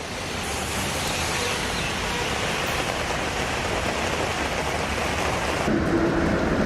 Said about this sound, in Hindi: दिल्ली एनसीआर में सुबह से बारिश हो रही है